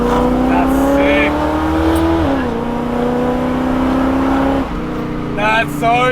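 A car engine revs up loudly through an acceleration pull, holding a steady strained drone that dips briefly as the gear changes, with people talking over it.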